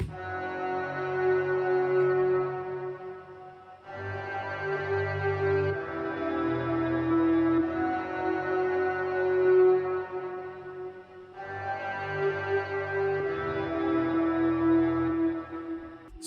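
Orchestral sample with a spacey, ambient wash of reverb, delay and filtering, sustained string-like chords swelling in three long phrases with a low bass layer, loud and continuous with no voices.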